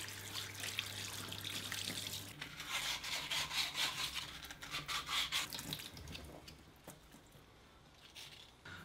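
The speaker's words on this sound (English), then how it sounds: "give it a bit of a buffing up with the 600 grit" Wet sanding with 600 grit wet and dry paper on a caravan awning part: a rhythmic wet rubbing and swishing, strokes repeating steadily with running water noise, fading quieter toward the end.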